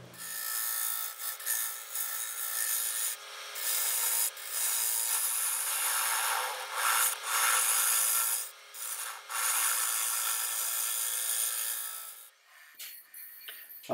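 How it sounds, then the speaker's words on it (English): A round carbide tool hollowing the inside of a wooden bowl on a lathe, a harsh scraping, rasping hiss in long continuous bursts with short pauses, fairly close and loud before tapering off near the end. "I'm just hollowing out the inside of the bowl with the round carbide tool"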